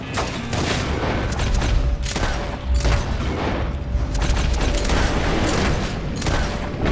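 Gunfire in Red Dead Redemption 2 cracks in repeated loud bursts over a dense, booming battle din with no clear pause, close and heavy throughout.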